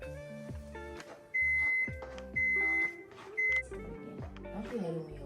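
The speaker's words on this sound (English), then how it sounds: "My timer just went off for my pot roast." An electronic kitchen timer for a pot roast beeps three times in long sustained tones, sounding over a busy kitchen background with music and voices.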